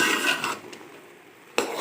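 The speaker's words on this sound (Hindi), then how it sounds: "चम्मच को चलाते रहना है ताकि ये जले ना" Spoon scraping and stirring grated carrots in a pan for carrot halwa over full flame, a steady rubbing stir with a sharper clatter of metal near the end, close and moderately loud.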